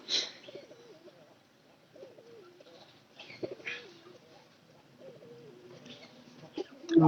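Domestic pigeons cooing softly at feeding time among backyard chickens, repeated low throaty coos in slow phrases, fairly close, with occasional faint rustles and movement between calls.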